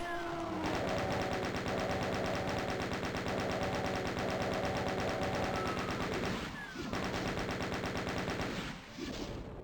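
Rapid, sustained machine-gun style gunfire from The Ultimate DOOM, loud and dense, with only brief dips in the stream of shots and no talking.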